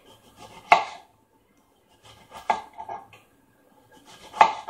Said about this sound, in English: Now this is a very large squash, so I can cut it in half